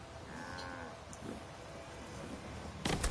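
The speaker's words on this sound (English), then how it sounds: "Those are Brahmin. Those mutated cows." Brahmin, the mutated two-headed cows of Fallout 4, low at a moderate distance in a couple of drawn-out moos over quiet game ambience, with a sharper noise burst at the end.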